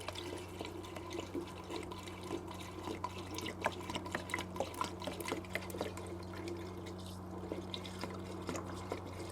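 One litre of liquid being poured in, a faint, continuous trickle and splash with small irregular drips over a low steady hum.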